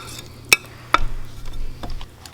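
Black silkie chicken meat being stirred into glutinous rice porridge in a pot, with two sharp utensil clinks against the pot and a soft, wet scraping stir between them, close and fairly quiet.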